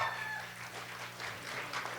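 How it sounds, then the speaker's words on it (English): Scattered cheering and clapping from a graduate's family section at a community college commencement ceremony, heard at a moderate distance in a large hall. "She brought her own cheering section."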